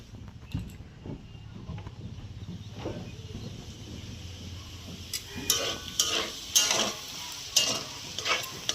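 Potatoes frying in a pan sizzle softly while a utensil stirs and scrapes, the stirring growing into louder rhythmic clatters near the end.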